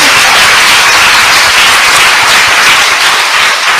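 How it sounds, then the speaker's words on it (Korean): A church congregation at a patriotic forum lecture breaks into loud, dense applause, a continuous roar of clapping from many hands sustained at full volume without a pause. "박수로 하나님께 영광."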